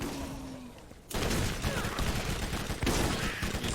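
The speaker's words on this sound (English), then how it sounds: "Using my explosive SMG." Explosive SMG fire in Borderlands Remastered: after a quiet moment, a sustained rapid stream of loud, close automatic shots with popping blasts runs steadily to the end.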